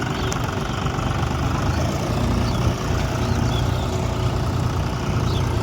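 A Swaraj tractor idles steadily nearby while being loaded with sesame in a field, its low diesel rumble continuous and unchanging throughout with no voices.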